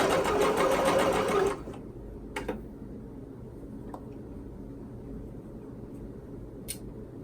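A sewing machine runs a narrow zigzag top stitch on a knit neck binding in a quick burst of rapid stitching lasting about a second and a half, followed by quiet with a few faint clicks.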